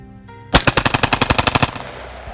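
A semi-automatic rifle is bump-fired using only a finger to imitate automatic fire, giving a loud, close burst of about a dozen rapid, evenly spaced gunshots lasting just over a second, then an echoing tail.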